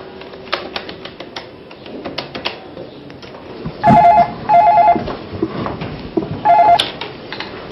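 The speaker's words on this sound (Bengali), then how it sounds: "আমি বরঞ্চ ভাবিকে একটা ফোন দিই।" A telephone call being placed, with three loud, near electronic tone bursts in the middle of the clip over a murmur of indoor background noise.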